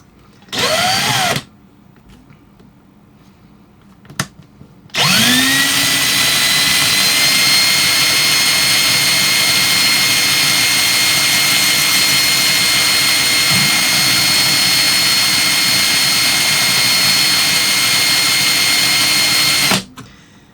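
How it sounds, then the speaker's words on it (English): An electric drill set to its slowest speed whirs steadily for a long stretch while installing bearings into a Roomba, loud and close, after a short initial burst and pause. "I've got my drill turned down to the slowest speed"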